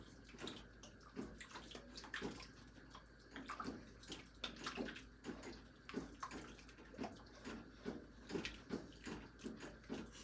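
Water from a can is poured into a pan of chili, splashing and gurgling softly in uneven bursts.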